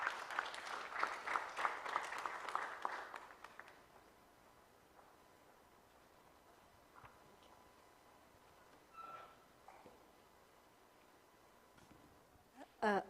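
Applause at a national legal aid conference, a few seconds of clapping from a seated audience that fades out into a quiet hall with faint shuffling.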